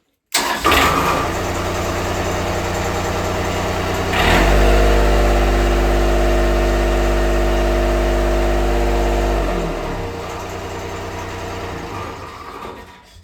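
A large diesel engine in a homemade diesel-electric submarine cranks and starts, then runs with a steady heavy rumble that deepens for a few seconds before settling back.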